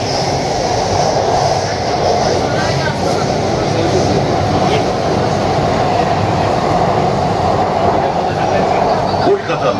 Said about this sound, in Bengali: কলকাতা মেট্রো রেল আপনাকে স্বাগত জানায়।